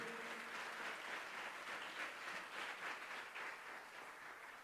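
A church congregation applauds during a Portuguese-language service, a steady, dense roll of many clapping hands that stays even throughout and tapers slightly at the end, heard faintly and without speech.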